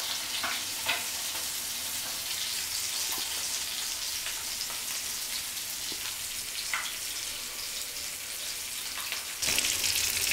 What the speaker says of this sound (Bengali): মাছটাকে পুরো কড়কড়া ভেজে নেব